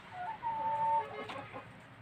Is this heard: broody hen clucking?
yes